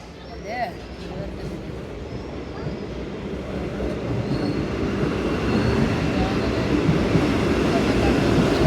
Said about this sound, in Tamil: இப்போ வந்து வந்தே பாரத் வருதுங்க.